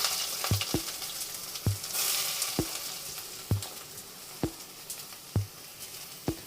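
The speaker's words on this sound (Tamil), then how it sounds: "இதில் டைரெக்டாக இப்போ நம்ம ஆனியன் போட்டுக்கலாம்." Medium-sized onions frying in oil for mutton chukka, an even sizzle punctuated by regular sharp taps and scrapes of a spatula against the pan, close and clear with no talking.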